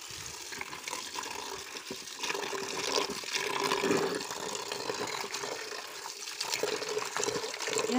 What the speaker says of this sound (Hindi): मिर्च मैंने छाट लिया, अब इसको पानी से धुलते हैं।